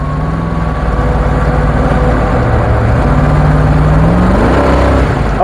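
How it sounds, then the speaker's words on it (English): Dodge Coupé hot rod with a 6.6-litre engine rumbling loudly from inside the car, its pitch climbing steadily as the gearbox kicks down and the engine revs up. "Oh, it kicks down a bit, kind of when you don't expect it to do."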